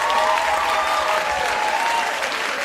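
Audience applause follows a live song at a music performance: dense, loud clapping from a crowd, steady throughout and gradually easing a little toward the end.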